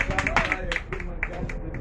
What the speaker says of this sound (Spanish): Denle la gloria y honra a Dios con un aplauso.